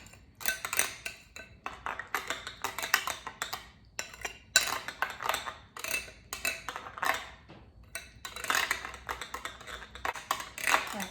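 A utensil mixes no-cook meal prep ingredients in a dish, producing irregular scraping and clinking bursts against the container, close and fairly crisp, with short pauses between strokes and no talking.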